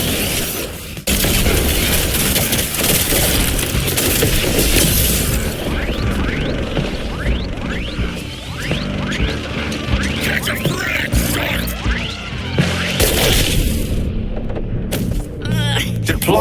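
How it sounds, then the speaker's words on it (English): Artillery barrage in Suicide Squad: Kill The Justice League, with dense repeated booms and rapid impact blasts rolling over a sustained roar, punctuated by sharp crackling bursts and mechanical clatter, loud and close. "Deploying artillery."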